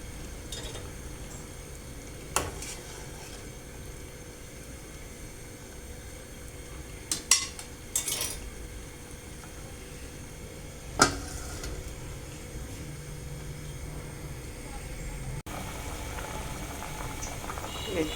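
Fish cooking in a pot bubbles with a steady low simmer, interrupted by a few sharp clinks of a utensil against the metal rim as it is stirred, close and continuous throughout.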